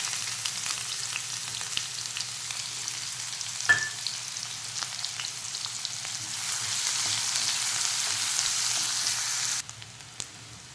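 Chopped onion fries in hot oil with cumin and asafoetida, a steady close sizzle with a few faint clicks. It brightens slightly midway and then drops abruptly near the end.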